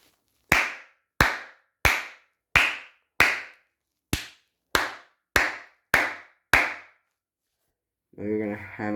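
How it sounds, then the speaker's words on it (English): A steady series of ten sharp hand claps set off a sound detector module, close and evenly spaced, ending in a brief tonal buzz or hum from the device. "And as I clap, it turns on LEDs."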